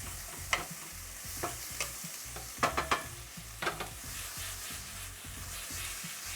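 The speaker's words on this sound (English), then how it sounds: "the sizzling is beginning to reduce a little bit as the vegetables release all of the liquid into the pans" Vegetables and potato bits sizzle steadily in a hot pan, with the wooden spoon scraping and clacking against it in irregular strokes that stand out close over the continuous frying hiss; no one speaks.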